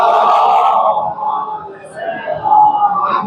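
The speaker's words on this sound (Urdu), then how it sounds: "ایک باواز بلند نعرے صلوات" Many voices of a majlis congregation in an imambargah during Muharram chant salawat loudly together, a full crowd roar that dips briefly midway then swells again near the end.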